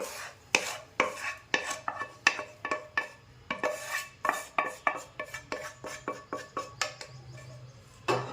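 Spoon clinks and scrapes steadily against a bowl while rava appe batter is mixed with sautéed vegetables, a rhythmic run of sharp knocks repeating roughly twice a second, close and fairly quiet with no talking.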